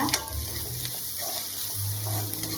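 Onions sautéing in a pan with three green chilies and curry leaves for homemade pepper chicken, a steady soft sizzle with faint stirring scrapes, close and unbroken, with no talking.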